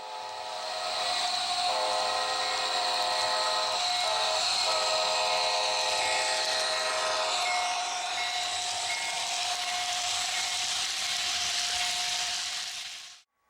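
A model CSX locomotive fitted with a Loc Sound decoder blows a loud, steady horn that holds for about twelve seconds before cutting off abruptly, with no voices.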